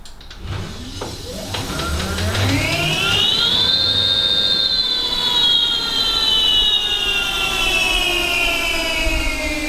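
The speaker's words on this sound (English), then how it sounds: "So if I press the accelerator, you should be able to see the motor moving." Electric motor of a home-built solar car, raised on a jack stand, spinning up under throttle with a loud whine that rises steeply in pitch, then holds steady as a high, sustained tone with no talking.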